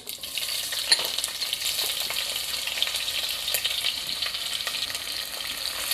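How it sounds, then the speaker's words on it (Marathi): Onion frying in hot oil or ghee with mustard seeds and cumin, a steady close sizzle crackling throughout with light stirring and no voices. "साधारण 1 मिनिट मी कांदा परतून घेणार आहे"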